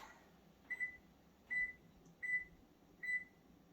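A kitchen timer set for 30 minutes gives four short, evenly spaced electronic beeps, fairly faint against a quiet room hum.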